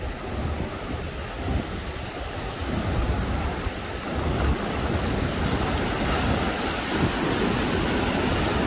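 Ocean waves rolling onto a calm beach with no current, the occasional bigger wave lifting, heard as a steady close rush of surf mixed with wind buffeting the microphone throughout.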